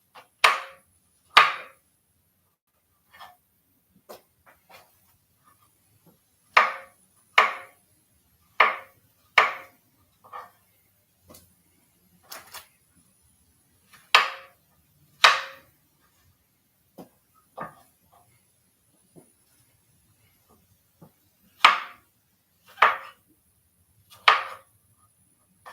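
A knife chops vegetables sharply and repeatedly on a cutting board, close up, in short irregular bursts separated by pauses.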